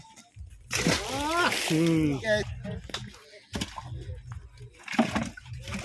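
Large fish are tossed into a pond, giving several wet splashes and sloshes up close, mixed with loud talking voices nearby.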